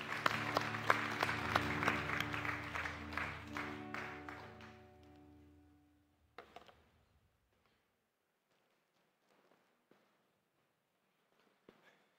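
A church congregation claps steadily for several seconds, the applause fading away into a few scattered claps and quiet.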